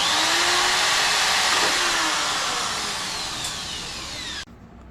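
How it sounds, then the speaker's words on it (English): Power drill boring a small hole beside the horn on an RS 457 motorcycle: a loud, close, continuous whine lasting several seconds, fading slightly before cutting off abruptly. "For that I am drilling a small hole over here beside the horn itself."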